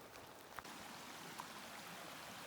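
A small side creek runs beside a Rocky Mountain hiking trail, giving a steady, soft broadband rush of flowing water with no pauses and a faint tick or two of splashes, heard alone with no voices.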